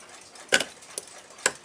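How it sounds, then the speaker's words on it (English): A 1951 Junghans W64 eight-day mantle clock mainspring, packed with stiff old grease, clunks as it is let down: three sharp, close knocks at uneven intervals with quiet between. "That clunking you hear is the mainspring."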